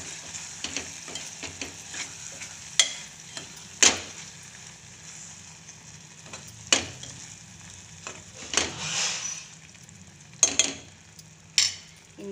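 Ground masala is stirred into an Andhra-style stuffed brinjal curry in a pan, with a steady low sizzle under sharp, irregular scrapes and clinks of a spoon against the metal pan, close up and without any voices.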